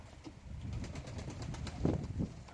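Faint, low cooing from young autumn pigeons sitting on a roof for the first time, repeated softly over a couple of seconds with slight background rustle.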